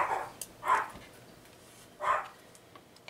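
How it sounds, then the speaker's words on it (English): A dog barks somewhere in the background, three short, moderately loud barks spaced unevenly over a quiet indoor room, with no talk over them. "that's my dog in the background."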